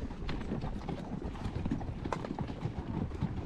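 Horse hooves clip-clop steadily and close while being ridden on a wilderness trail, a rapid irregular patter of muffled hoof strikes with no talk.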